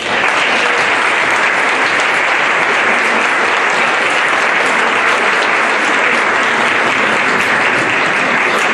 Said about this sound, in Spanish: Despidámoslo con otro fuerte aplauso, por favor.